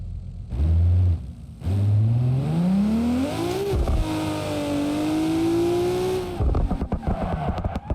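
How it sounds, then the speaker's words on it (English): A car drifting in BeamNG.drive, the engine revving up in a rising whine that holds high, then tire scrub and clattering as the slide ends, no talk. "Let's do some drifting."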